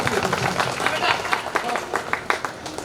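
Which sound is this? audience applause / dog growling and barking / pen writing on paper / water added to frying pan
audience applause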